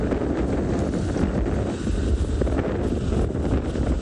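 Strong wind buffets the microphone on a morning safari drive in South Africa, a steady, loud, broadband roar with no pauses and no talking.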